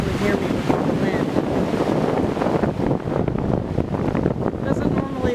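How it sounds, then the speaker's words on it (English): Strong wind blasts across the microphone on a rough Lake Erie shoreline, a constant loud roar with surf churning underneath, steady throughout and with no clear speech. "It's pretty rough today, so I hope you can actually hear me with all the wind."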